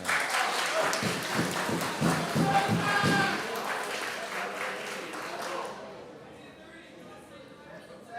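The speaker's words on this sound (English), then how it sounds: "Okay, the crowd gets into the action." A crowd at a jiu-jitsu team tournament claps and cheers loudly, rapid applause that fades after a few seconds while commentators keep talking.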